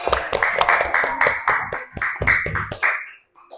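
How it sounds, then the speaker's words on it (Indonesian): Students in a school classroom clap their hands in rhythmic bursts for about three seconds, mixed with loud group voices, then stop abruptly and fall silent. "tepuk tangan untuk kita semua"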